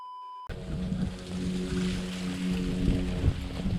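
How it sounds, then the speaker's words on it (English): Outdoors near water, strong gusty wind buffets and roars steadily right after a brief tone cuts off, loud and close with no talk. "The wind."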